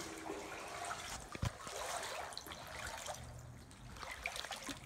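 Water in a video game trickles and splashes softly in a steady, faint stream, with one brief louder thump partway through and no talking.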